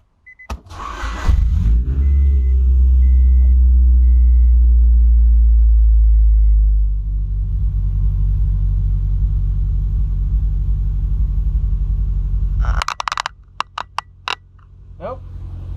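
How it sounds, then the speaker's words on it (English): A Honda Del Sol with a new PLM exhaust cranks and fires up, settling from a loud deep rumble into a steady idle, with a few clicks and clunks near the end. "let's turn the car on"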